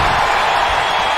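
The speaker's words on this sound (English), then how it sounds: "Listen to this crowd." Wrestling video game arena crowd roaring in a steady, dense wash of cheering noise, loud and continuous with no distinct voices standing out.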